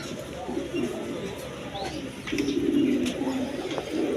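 Lahori pigeons coo repeatedly at close range amid a noisy background, with low rolling calls that grow stronger in the second half.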